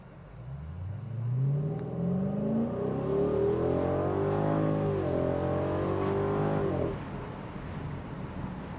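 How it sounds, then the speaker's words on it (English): A 2003 Ford Thunderbird accelerating hard from a cruise, its exhaust note rising steadily in pitch through a long pull, loud and close, then easing off abruptly near the end. "We'll step on it a little bit, you'll hear the exhaust."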